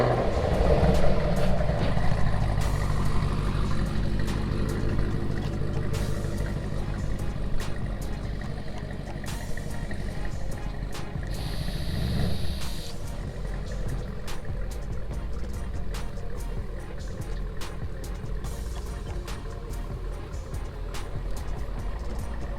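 A supercharged Chevrolet Camaro ZL1 driving, its engine a continuous loud, rumbling roar heard from inside or close by, with a steady low growl that swells slightly and shifts in tone over time, plus scattered clicks and faint rattles.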